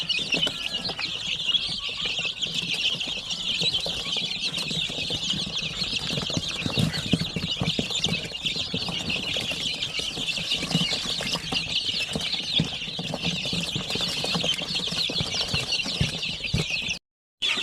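A mixed-age flock of chickens with young chicks about two months old fills a crowded coop with steady clucking and peeping, a dense constant chatter with occasional wing flutters, moderately close.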